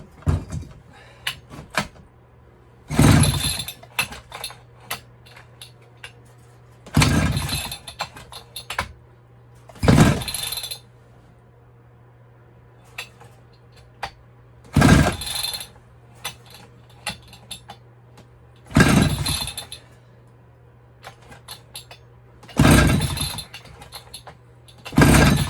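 Old chainsaw engine pull-started with the switch off and choke on, a series of sharp ratcheting cranking bursts spaced a few seconds apart, each a short rasping pull with quiet gaps and a low hum between, close by.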